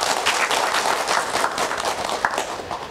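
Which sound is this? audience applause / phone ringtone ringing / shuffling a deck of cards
audience applause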